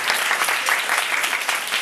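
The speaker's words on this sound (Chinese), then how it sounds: "请大家热烈掌声欢迎" A live comedy show audience breaks into warm, dense applause to welcome the performers, a full and even clapping sound across the whole moment.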